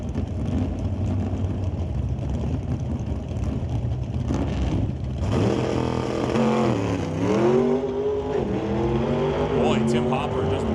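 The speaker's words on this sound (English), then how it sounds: "brings up Keith Winterbottom and Tim Hopper, the 1968 Camaro out of Maple Ridge, going up against the 1972 Chevy Vega." Drag racing launch at Mission Raceway Park between a 1968 Camaro and a 1972 Chevy Vega: engines rumble at the line, then roar up with loud rising revs and gear changes as the cars pull away, with a track announcer talking throughout.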